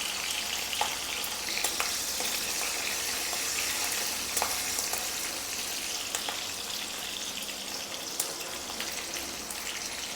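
Mustard seeds, cumin and green chillies sizzle and crackle steadily in hot oil for a brinjal bharit, with scattered sharp pops over a constant hiss and no talking.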